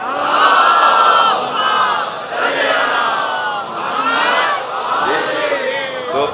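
A large crowd at a Muharram majlis in Nishtar Park, Karachi, loudly recites salawat in unison. Many voices chant in rolling, rhythmic waves that fill the space.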